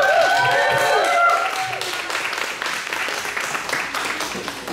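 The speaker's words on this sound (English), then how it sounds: "Let's get a round of applause for Michael." Outdoor crowd at a Toronto bike ride event applauding a speaker, a dense burst of clapping with cheering voices over it at first, then continuing more thinly.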